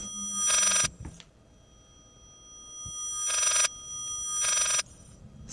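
Telephone-bell ringing from a haunted painting in the Layers of Fear game: three loud bursts, one early and two close together near the end, with a quiet gap between them.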